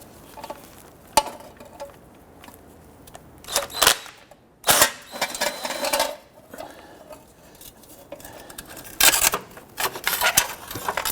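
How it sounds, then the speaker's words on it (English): A 10 mm socket on a swivel and extension works loose the oil pan bolts of a 1992-1996 Toyota Camry 2.2L I4, giving short bursts of rapid ratchet clicking separated by pauses and metallic tool handling. "So we're gonna go ahead and use our 10 millimeter swivel and extension and go ahead and get to the front one."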